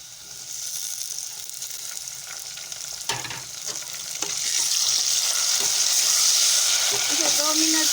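Onions and tomatoes fry in a pan for an egg-onion curry, giving a steady, close sizzle with scraping stirring clatter that grows louder and more hissing toward the end.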